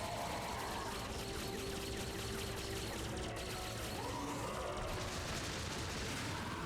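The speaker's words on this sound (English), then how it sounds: "With the gunfire, the laser fire." Laser gunfire and explosions from the video game Star Fox Zero form a dense, continuous barrage of rapid shots and booms with mechanical tones underneath, loud and unbroken throughout.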